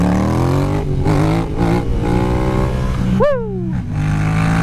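An old truck's engine revs and accelerates loudly and up close while driving down a road, holding a steady drone before a sharp rising then falling rev near the end.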